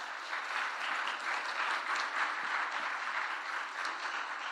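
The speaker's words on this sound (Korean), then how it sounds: "뜨거운 박수로 환영할까요?" A church congregation applauds warmly to welcome a missionary, a steady even wash of many hands clapping throughout, moderately loud with no talking.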